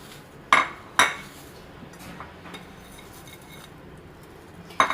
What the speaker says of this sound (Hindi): अब इसको मुसलसल चम्मच चलाते रहेंगे 2 मिनट तक